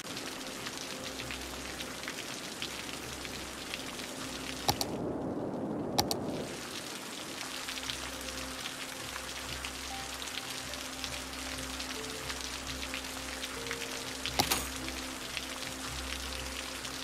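Steady rain in the game Cities: Skylines pours down continuously, a dense even hiss of drops with a brief deeper whoosh partway through.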